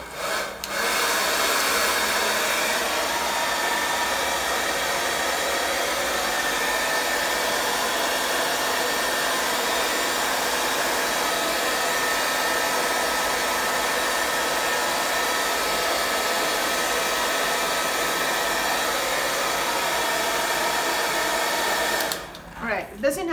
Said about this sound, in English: You can choose to dry this first using a hairdryer